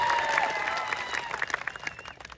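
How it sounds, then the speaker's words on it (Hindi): Crowd at a political rally in Dungarpur claps loudly and continuously, a dense wash of applause that gradually thins into scattered, uneven claps over a couple of seconds. "एक बार जोरदार आपके लिए तालियां बजा दी जाए"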